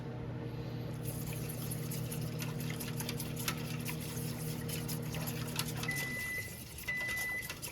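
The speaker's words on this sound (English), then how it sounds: "Gravy whisk." A whisk works gravy in a pan for bangers and mash, giving a steady run of quick metallic clicks and scrapes over a low hum that cuts out near the end.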